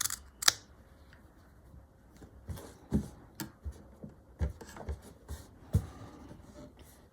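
Scissors snipping fabric for bunting flags at a sewing table, a handful of sharp isolated cuts and clicks spaced irregularly over quiet room tone.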